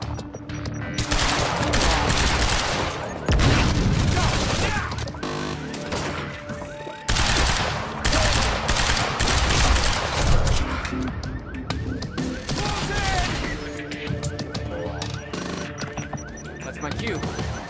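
Heavy gunfire in the Quantum Break video game: dense, continuous automatic bursts and rapid shots at close range, fierce and loud throughout, with a brief pause near seven seconds and shouted voices mixed into the firefight.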